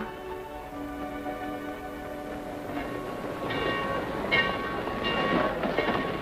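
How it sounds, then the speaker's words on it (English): A passenger train waits at a station before departure, its steady rumble and hum holding near and constant with some rail clatter building toward the end. "Better hurry, folks. Your train's about to leave."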